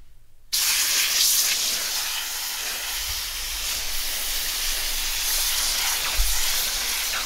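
Running water pours steadily over a tie-dyed t-shirt being rinsed, a broad continuous hiss starting abruptly and holding for several seconds with occasional low splashes and thumps.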